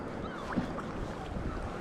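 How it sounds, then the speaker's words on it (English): Sea kayak fishing off Scotland: a fishing kayak paddled over open water, with soft, steady swishing and lapping around the hull, a faint splash from a stroke, and light wind behind it. "I am going to go and take a little paddle"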